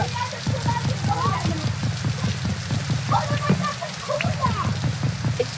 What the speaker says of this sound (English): Raining right now.